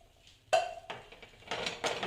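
A spoon stirs chana dal halwa in a pan, making several clinking scrapes against the metal in short bursts between quiet gaps.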